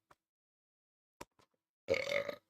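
A man's burp during a podcast: after a few faint isolated clicks and breaths, one loud, throaty belch stretches for about half a second near the microphone.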